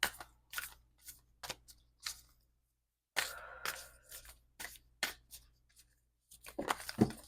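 Tarot cards being shuffled in short riffling bursts, a series of crisp papery flutters separated by brief pauses, close and fairly quiet.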